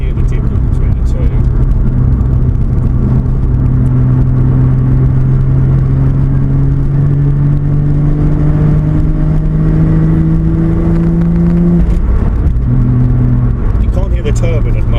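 A Toyota Supra MK4 JZ-series engine heard from a mic in the engine bay. Loud, close revving climbs steadily in pitch over several seconds, then drops back before a short second rise, with a constant whine.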